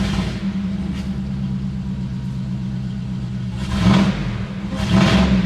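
A Jeep with a 717-horsepower 6.2-liter Hellcat supercharged engine idles with a deep steady rumble, then gives two loud revs near the end, each swelling and fading, with no talk.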